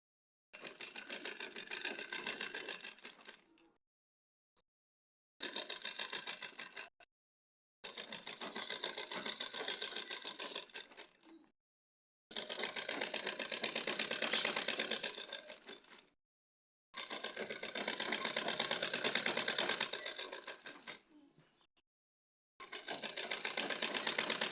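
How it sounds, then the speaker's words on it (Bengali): Sewing machine stitching folded fabric in six separate runs of rapid, buzzing stitches, each lasting a few seconds and separated by short silent gaps, close and steady. "এইভাবে নিয়ে সেলাই দিয়ে দেব।"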